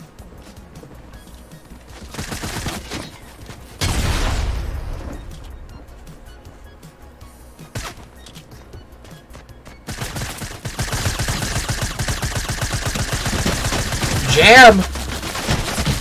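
Bursts of rapid gunfire in the Fortnite Creative Showdown game, coming in dense volleys across the second half after a quieter stretch, with a shouted voice and commentary-style talk over the shooting.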